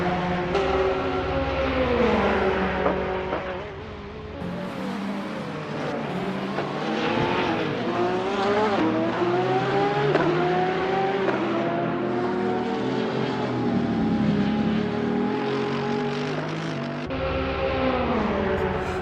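Race cars lapping a track during a sim racing championship round at Autodrom Most, with high engine whines rising and falling through gear changes, loud and continuous throughout.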